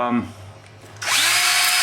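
A power drill spins oil pan bolts on a Subaru, with a short buzz and voice at first, then a loud, steady high whine that starts abruptly and holds close until the end.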